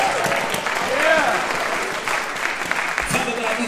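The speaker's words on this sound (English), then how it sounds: "give God a hand clap of praise in here" A church congregation claps hands in praise, a steady crowd of clapping that runs under a voice speaking or calling out over it.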